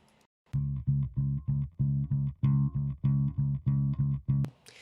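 Original bass track from a music mix plays alone as a rhythmic sequence of about eleven short, punchy repeated bass notes, loud and steady, ending with a brief bright noise burst.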